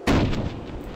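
A single loud, booming gunshot in a video game, sharp onset followed by a short rumbling decay, heard alone without talk.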